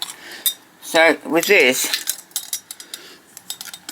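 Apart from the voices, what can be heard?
winding up a tinplate seal toy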